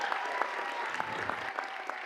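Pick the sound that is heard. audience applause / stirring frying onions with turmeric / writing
audience applause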